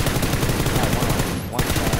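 Dense automatic gunfire in PUBG (PlayerUnknown's Battlegrounds), a rapid rattling volley of loud shots filling the moment, with a player's voice partly mixed in.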